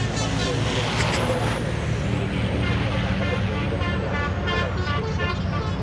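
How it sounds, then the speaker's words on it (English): Loud, continuous racing truck engine roar with deep air horn blasts blaring over it, close and sustained, amid heavy road noise at the British Truck Racing Championship, Snetterton. "Listen to the air horns."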